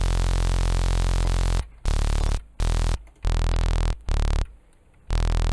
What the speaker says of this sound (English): That fuzziness in the sound, that's the noise being brought in.